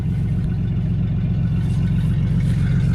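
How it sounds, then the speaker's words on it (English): A car engine idles in a steady, low, continuous rumble, close and even, with no voices. "That exhaust sounds really well."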